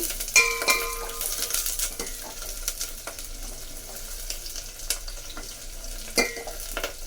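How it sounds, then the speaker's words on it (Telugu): Curry leaves fry in a pan for a drumstick rasam, with a soft, steady sizzle under occasional scraping and clinking as the spoon stirs against the metal. The sound is close and fairly quiet, with a few sharper taps. "కొంచెం కరివేపాకు వేస్తున్నాను ఒకసారి ఇలా కలపాలి"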